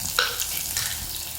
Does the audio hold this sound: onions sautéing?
yes